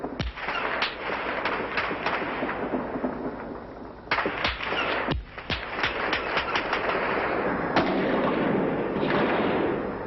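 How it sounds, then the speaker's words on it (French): Automatic weapons fire in bursts during a street clash, captured in an old 1981 television news recording: loud, sharp cracks and rapid volleys echo repeatedly over a dense noisy backdrop, with no talking. "alors que retentissent des rafales d'armes automatiques"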